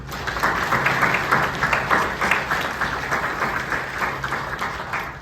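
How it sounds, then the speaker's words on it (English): An audience applauds at a Sarnia Sting ownership announcement as former player David Legwand is introduced, steady, sustained clapping from a crowd in a hall, with no speech over it. "A round of applause for David, please."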